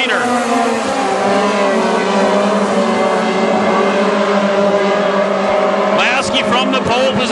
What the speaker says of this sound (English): Getting by Muir also with a nice move on the low side of the racetrack is Chad Funton, 21